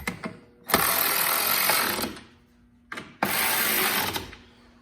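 Fasteners being tightened on a JBS X2/X4 firewall shield, likely with a power driver: two sustained bursts of broadband whirring, roughly a second and a half each, separated by a short pause, close and fairly loud.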